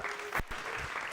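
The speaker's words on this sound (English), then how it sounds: "Can I have a round of applause for these beautiful people?" A short burst of audience clapping for the team at a civic tech demo night comes through faint and distant, with a couple of sharper claps standing out near the start.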